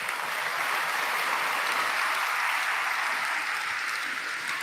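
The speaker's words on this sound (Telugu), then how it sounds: "ఇప్పుడు కొట్టాలి చప్పట్లో" A congregation at a Telugu Christian sermon breaks into steady, dense clapping that fills the room evenly and continues without pause, with no voices heard over it.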